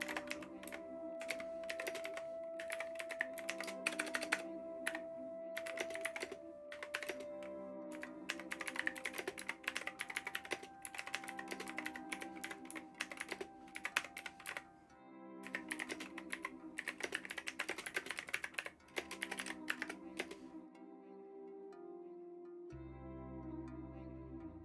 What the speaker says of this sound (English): you guys would have heard me typing, so you'll know how long that is